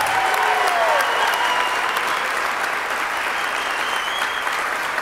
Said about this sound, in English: How about one more round of applause for all of our volunteer winners?